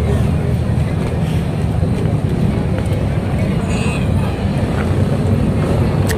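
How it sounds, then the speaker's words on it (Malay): Motor engines rumble steadily throughout, a dense low drone of several Vespa scooters riding in nearby with crowd noise mixed in, at a motoring carnival in Pahang. "Dia orang naik motor, jadi beramai-ramai masuk."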